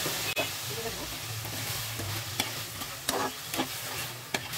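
Chicken being sautéed with spices in a pan, a steady low sizzle with occasional scrapes and taps of a spoon against the pan, close and moderately quiet.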